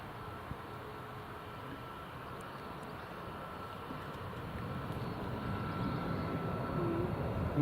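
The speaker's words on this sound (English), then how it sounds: "There's the Ryanair just rotating." A Ryanair airliner rotating on takeoff at Newcastle International Airport, a broad, steady jet roar heard from a distance that slowly swells over several seconds.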